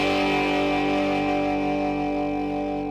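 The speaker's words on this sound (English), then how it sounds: "There's my distortion pedal." Electric guitar played through a distortion pedal on a Boss Cube FX multi-effects amp, a steady sustained distorted chord ringing loud and alone throughout with no talking.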